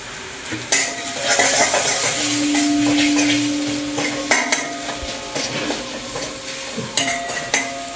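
Spice paste with turmeric, salt and chili powder sizzling and frying in a pan while being stirred, with repeated scrapes and clinks of a utensil against the metal over a steady bed of sizzle.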